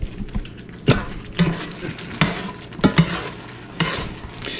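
Fish gravy bubbles and simmers in a pan, a steady soft sizzle broken by several sharp scraping strokes of a utensil stirring against the pan, close and fairly loud.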